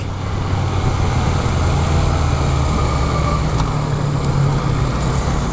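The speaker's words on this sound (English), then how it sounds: "Now it is a triple, but it feels like a torquey V-twin. The engine sounds pretty good." A 2016 Yamaha FZ-09 triple-cylinder motorcycle engine runs at a steady, loud drone, a continuous low throb with road and wind noise throughout and no talk.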